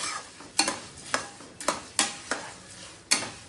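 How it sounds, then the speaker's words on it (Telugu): Fenugreek and cumin seeds fry in oil for a tempering, giving a quiet bed of sizzle punctuated by about eight sharp metallic scrapes or taps of a spoon stirring the pan, irregularly spaced and close, with no talking. "వేసి వేయించుకోవాలి. పోపు కొంచెం వేగాలి."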